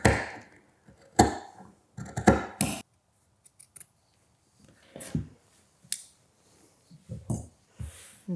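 Scissors trim and grade a sewing seam allowance on a dress bodice, giving a series of crisp, close snips in irregular bursts separated by short quiet gaps.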